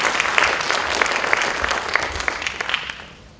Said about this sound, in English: let us clap for Dr.